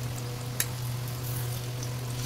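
Pieces of dhoka lentil cake fry in oil with a steady, moderate sizzle close by, marked by one sharp clink early on, and no one talks.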